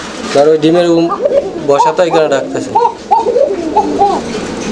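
Pigeons coo repeatedly up close in rolling, throaty phrases, with a voice talking alongside the calls.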